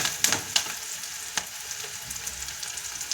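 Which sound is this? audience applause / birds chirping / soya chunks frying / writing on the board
soya chunks frying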